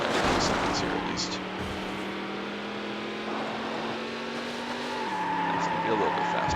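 Race car engine roars steadily through a lap in the Need for Speed Hot Pursuit 2 video game, with tire squeals and a gear shift near the end, loud and continuous.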